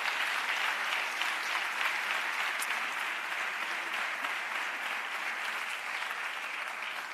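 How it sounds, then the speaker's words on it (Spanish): A large audience at the opening session of a national rural-schools congress applauds vigorously, a thick, unbroken patter of clapping that holds steady and moderately loud throughout. "darnos calorcito, aplaudiendo bien fuerte por iniciar esta jornada"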